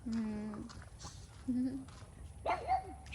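A dog nearby gives three short, whiny barks, spaced about a second apart, with quiet background noise between them.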